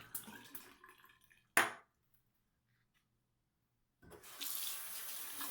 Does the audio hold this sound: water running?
yes